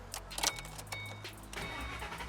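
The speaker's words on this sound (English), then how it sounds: "I think it's time for us to start it up" A 2007 Ford Mustang GT500 with a stage 2 clutch cranks and fires up, a brief starter whir and catch followed by a low, steady idle rumble nearby.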